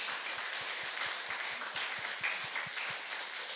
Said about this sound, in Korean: 감사의 박수를 드립시다.